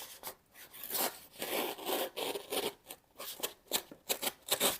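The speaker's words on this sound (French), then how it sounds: "Donc pour le test de la pierre, je vais aiguiser donc ce couteau" A dull knife is drawn across a Lutopic diamond sharpening stone (600/1200 grit), giving repeated close rasping strokes in an uneven rhythm, with no talk.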